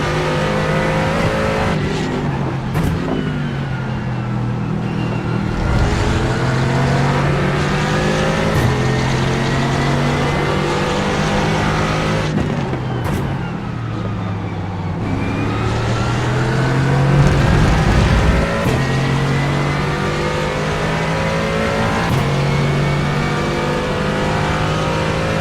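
A race car engine in the iRacing sim, running the Falken Tyre Sports Car Challenge, drones and revs steadily, its pitch rising and dipping through repeated gear shifts and throttle changes, loud and continuous with no voices.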